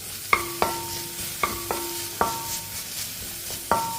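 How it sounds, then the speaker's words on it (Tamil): Vegetables sizzle softly in a pan, sautéed lightly for a weight-loss soup, while a spoon scrapes and clinks against the metal several times at an uneven pace. "இதை லைட்டாக கொஞ்சம் வதக்கிக்கிடுவோம்."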